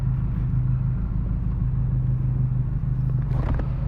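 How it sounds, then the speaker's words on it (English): Benelli TNT 300 motorcycle rumbles with a steady, deep exhaust note, close and continuous throughout, with a slight rise in the engine sound near the end. "Many people buy only for the exhaust."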